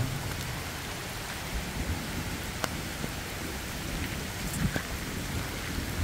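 Soft, steady rain falling outdoors, a continuous patter with a faint low rumble beneath and a few isolated drips.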